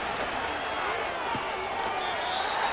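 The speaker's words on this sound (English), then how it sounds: "This crowd, they're trying to force a false start. What noise before 3rd and inches." Stadium crowd roar from a Madden NFL 25 football game, Panthers versus Cowboys, a steady loud wash of fans building noise before a third-and-inches snap, with a few sharp thuds over it.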